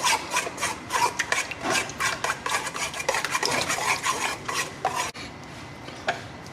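A spoon scrapes rhythmically through a seasoning mixture for goat ribs in a bowl, producing repeated close rubbing and grating strokes that stop abruptly near the end, leaving a faint tap or two.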